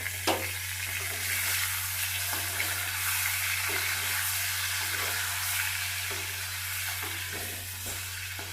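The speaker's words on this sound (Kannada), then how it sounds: "ಇದನ್ನಿಷ್ಟು ಹಾಕೊಂಡು ಮೊಟ್ಟೆನ ಫ್ರೈ ಮಾಡ್ಕೊಳ್ಳೋಣ" Eggs fry in a pan with spices for egg biryani, giving a steady, close, even sizzle that runs unbroken for several seconds with faint scraping and a low constant hum beneath, no voices.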